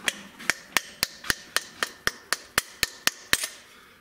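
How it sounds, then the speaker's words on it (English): About a dozen sharp, ringing knocks of a rubber mallet on a metal distributor part, evenly spaced and close, hammering at a quick, steady rhythm with no talking. "And let me get my rubber mallet."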